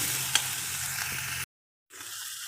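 Kashmiri red chilli powder, salt and cumin powder fry in oil for an Assamese fish curry, giving a steady close sizzle with one small pop. The sizzle breaks off into a brief silence, then softly returns.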